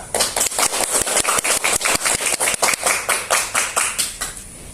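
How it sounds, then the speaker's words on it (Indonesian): Students in a classroom clap together in a rhythmic, fairly close burst of sharp hand claps, settling into a steady beat before thinning out at the end. "Kita beri tepuk tangan dulu"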